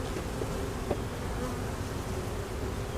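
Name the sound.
nurse bees buzzing at hive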